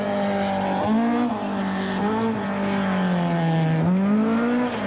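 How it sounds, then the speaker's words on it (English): Battered Ford Escort rally car, a 1978 Group division entry with lost synchromesh in second gear, roars along the Matahuru Gorge gravel stage in New Zealand, its engine note rising and falling through gear changes, loud and close throughout. "Dermot Malley's battered Escort is still there and running"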